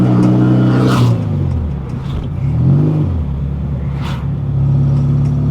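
A 1970 Volkswagen with a 1915cc engine and dual 40 carburetors accelerating through the gears, with a loud, close rumbling engine note that rises in pitch, dips at a shift, then climbs and holds steady.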